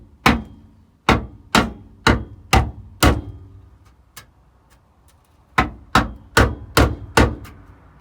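Sharp metallic hammer blows on the underside of a Ford XR2i chassis leg, bending metal tabs over: two close bursts of five to six ringing strikes each, with a brief pause between, loud and without talk.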